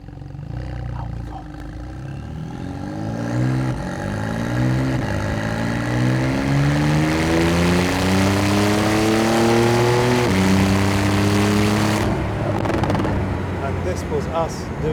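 A Porsche 991.2 Carrera 4 GTS flat-six pulls hard in sport mode, its engine note rising through several gears with clear upshift drops, loud and close from the cabin before fading at the end.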